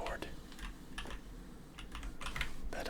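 Crisp keystrokes on a custom-built, modded mechanical keyboard tap out in short uneven bursts, close up, with a soft voice faintly underneath at times.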